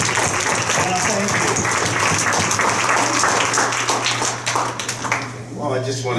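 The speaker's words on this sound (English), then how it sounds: "I'd love to get an applause for all our veterans" Applause for veterans at a property tax summit, a loud dense crowd clapping that dips briefly near the end, with voices and speech mixed in.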